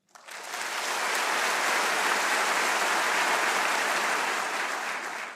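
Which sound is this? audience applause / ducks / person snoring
audience applause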